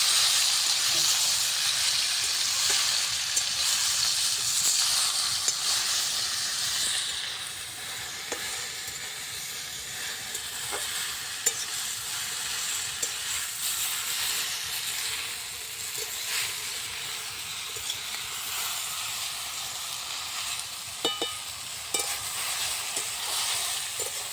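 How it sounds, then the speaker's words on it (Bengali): Crushed chalta, elephant apple, is stirred in a hot pan for pickle, giving a steady loud sizzle and hiss throughout with faint scraping of the spatula now and then. "এবার আমি এই চালতাগুলো থেতো করে রাখা সেগুলোর মধ্যে দিয়ে দেবো দিয়ে ভালো করে নাড়াচাড়া করবো"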